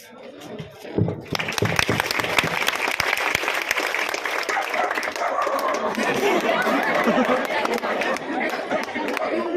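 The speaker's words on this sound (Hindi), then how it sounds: "वो भी ताली बजा रहे हैं आप लोगों से प्रेरित होके" An audience claps at a ceremony honouring exam toppers, dense sustained applause that swells after a quiet start and continues loudly and evenly, mixed with crowd chatter.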